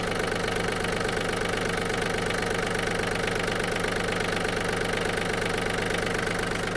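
The small diesel engine of a Yanmar F-200 mini tractor idles steadily nearby, a constant rhythmic knocking chug with no change in speed and no voices.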